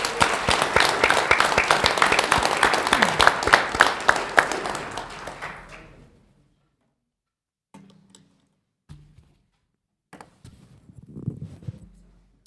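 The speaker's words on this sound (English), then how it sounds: "Let's give Eduardo another round of applause, please." An audience at a school board of trustees meeting gives a round of applause, loud and sustained for about five seconds before fading out, followed by a few scattered faint thumps.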